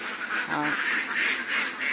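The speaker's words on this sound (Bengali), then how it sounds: "দেখুন হাঁসগুলো একবারে হাঁস, ফুল ডিমের হাঁস" Laying ducks give a short burst of nasal quacks, close and clear, over a background of continuous chatter and outdoor noise.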